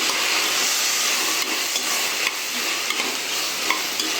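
Food sizzles steadily in a hot pan while a utensil stirs and scrapes, with small clicks scattered through the frying hiss.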